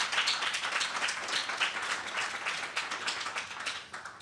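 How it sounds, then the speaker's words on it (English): A live audience applauds a writer and Audible founder taking the stage, producing steady, dense clapping at moderate loudness that holds evenly for several seconds before easing slightly at the end. "Let's give him a round of applause for being here."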